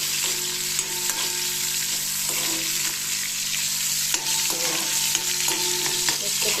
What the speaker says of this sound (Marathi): हे बोंबील मस्तपैकी आता तेलामध्ये फ्राय करून घ्यायचे.